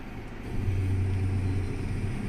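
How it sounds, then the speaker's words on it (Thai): A small 3-cubic-metre dump truck idles with a steady low engine drone and rumble while its PTO lifts the dump bed, the tone holding even throughout with no voices. "ดัมก็จะยกขึ้นนะครับ ถ้าต้องการให้เร็วเราก็เหยียบคันเร่งเติมเข้าไป นะครับ ดัมก็จะยกเร็วขึ้น"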